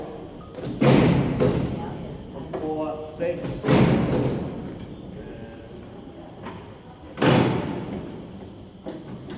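Heavy metal cell door clutch levers at Alcatraz prison are pulled, giving three loud booming thuds with clanking, spaced a few seconds apart, while someone talks throughout.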